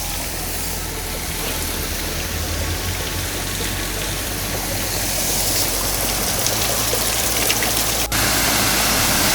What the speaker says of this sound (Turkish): Burada da şelale var